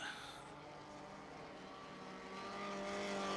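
A 1958 Formula One race car engine at the Belgian Grand Prix gives a steady, distant droning roar that swells louder toward the end as the car nears.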